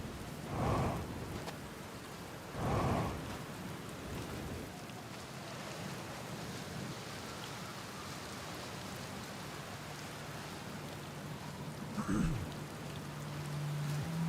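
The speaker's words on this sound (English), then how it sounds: "Good thing I never get bored of the rain, huh?" Rain in Outer Wilds, a steady broadband hiss of falling water throughout, with a few louder whooshing gusts and a brief sharper noise near the end.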